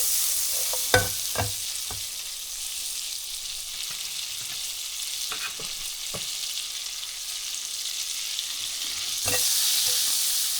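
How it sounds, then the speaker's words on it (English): Two tablespoons of butter melt in a pan for smoked brisket mac and cheese, giving a soft, steady sizzle broken by a few sharp utensil clicks, with no talking. "put 2 tablespoons of butter in your pan. Get that good and melted."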